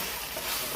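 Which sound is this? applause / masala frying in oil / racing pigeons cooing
masala frying in oil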